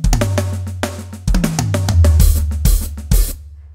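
A busy drum fill from a live recording, with punchy kick and snare hits and crashing cymbals, played loud and fast with a low bass line underneath.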